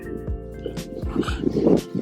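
Several pet dogs out on a walk give short barks and yips mixed with whimpering, close and overlapping, with a voice speaking over them.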